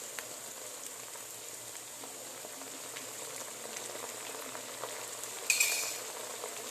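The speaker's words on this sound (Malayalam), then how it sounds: "ഇതിൻ്റെ പച്ചമണം പോകുന്നത് വരെ നമ്മൾ വഴറ്റിക്കൊണ്ടേയിരിക്കുക" Green chillies and curry leaves sauté in oil for fish pickle, a soft steady bubbling sizzle with faint occasional stirring, plus one brief louder clatter near the end.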